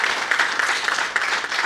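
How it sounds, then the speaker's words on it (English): Audience applause at the closing plenary session of a 2023 conference: a dense, steady wash of many hands clapping, fairly close and even in loudness throughout, with no talking. "You deserve a big round of applause for pulling all this together."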